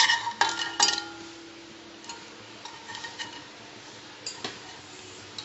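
A spoon stirs a milk mixture for kulfi in a pot on a gas stove set to a low flame, giving light metallic clinks and taps, with a couple of sharper scrapes early and soft intermittent ticks after.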